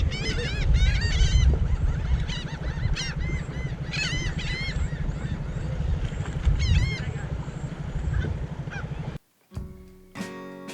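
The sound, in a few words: birds honking near a sailboat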